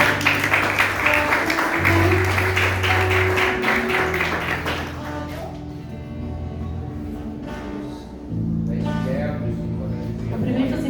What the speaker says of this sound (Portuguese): E assim as palmas